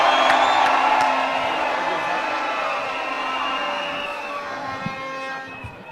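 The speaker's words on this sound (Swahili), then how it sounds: "Kama mmefurahi, wapi makofi ya Kimani Ichungwa?" Crowd at a Kenyan political rally cheering and whooping, a loud dense roar that stays steady and slowly eases over several seconds, with no speech on top.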